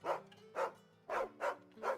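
Five sharp, close dog barks in an uneven rhythm, with a short gap before the last three, heard in the video game Final Fantasy XVI over a faint low musical tone.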